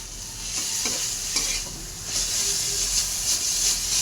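Fish fries in a pan with a continuous hissing sizzle and bursts of steam, while a utensil stirs it in a few scraping strokes; no voices.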